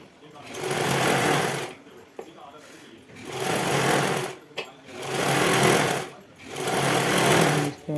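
A sewing machine stitches the side seam of blouse fabric in four rhythmic runs separated by brief stops, loud and close, with a voice speaking alongside.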